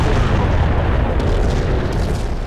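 Slow-motion super explosions in a PlayStation shooter video game, with a loud, continuous rumbling boom that stays heavy and sustained without a break.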